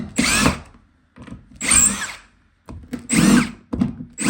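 Power drill with a number 2 Phillips bit backing screws out of a bathroom subfloor, four loud whirring bursts separated by short pauses, close up, with no talking.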